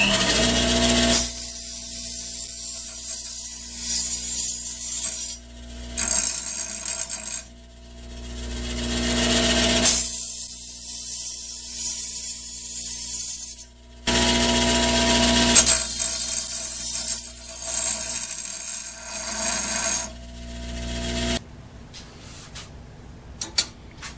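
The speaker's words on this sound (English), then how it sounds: "I'm going to just take the end of a rod and put a thread on it." A die cuts a thread onto the end of a metal rod in a workshop, giving long rasping grinding strokes broken by short pauses, loud and close, ending in quieter scraping and a few small clicks.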